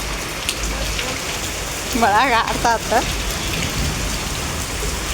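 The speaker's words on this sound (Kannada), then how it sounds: "ಅಷ್ಟು ಜೋರು ಮಳೆ ಬರತ್ತದ" Heavy rain pours down steadily in a dense, hissing wash, while a person speaks briefly partway through.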